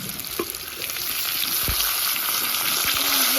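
Onions and tomatoes frying in a pan after a tempering of spices, a loud close hiss and sizzle that builds over a few seconds with a couple of stirring knocks.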